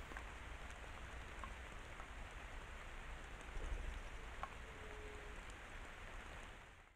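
Constant rainfall hisses evenly from start to finish, drops pattering nearby, with a brief low thump near the middle and distant faint calls from a pair of doves.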